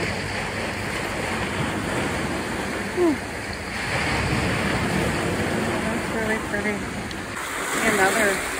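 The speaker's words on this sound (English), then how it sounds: "I have to dodge waves" Ocean waves surge and break steadily on a rocky shore near 2.1-billion-year-old Kona dolomite, a loud continuous wash with wind buffeting the microphone and a brief bird call in the mix.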